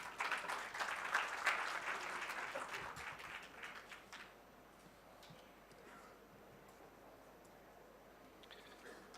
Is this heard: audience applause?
yes